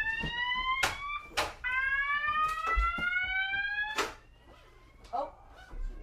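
A smoke alarm set off by shower steam shrieks in sharp, repeated high-pitched bursts, loud and close, while people talk over it.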